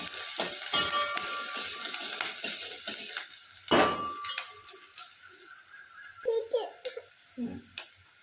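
Onion, a green chilli and curry leaves sauté in a pan, with a crackling sizzle broken by sharp stirring clatters and scrapes and brief bursts of louder spitting. A voice speaks faintly at times.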